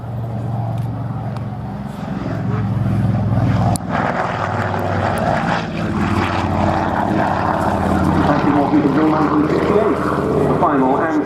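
A post-war civil Avro 19, the Avro Anson, at Scampton with its propeller engines running: a steady, loud, low drone throughout, close by and continuous, with voices talking faintly underneath.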